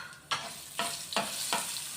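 Fenugreek seeds, dried red chillies and cumin tempering in hot oil, a soft close sizzle with four evenly spaced scraping stirs of a spoon through the pan.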